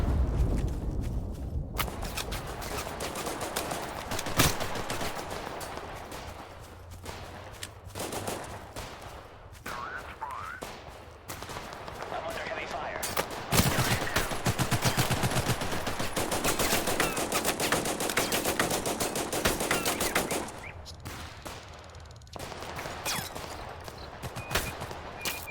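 Sustained automatic gunfire from the shooter video game Total Conflict: Resistance, loud, dense bursts of rapid shots continuing for long stretches with brief pauses between volleys.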